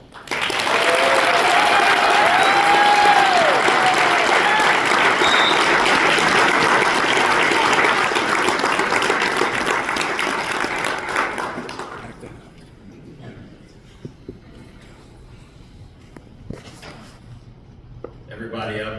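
An audience at an Ohio high school baseball coaches induction ceremony breaks into sustained applause for a coach, loud and steady for about twelve seconds before fading to scattered claps and quiet room noise.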